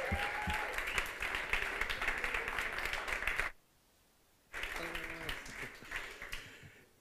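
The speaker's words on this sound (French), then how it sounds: "vous pouvez les applaudir" Church congregation applauding as guests are welcomed on stage, clapping mixed with voices and stage sound; it breaks off into a second of near silence, then resumes with music-like tones and voices.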